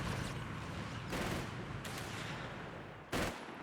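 Rapid machine gun fire rattles in bursts during a Company of Heroes 3 battle as US forces defend, a dense, steady crackle with sharper louder volleys punching through near the start, middle and end.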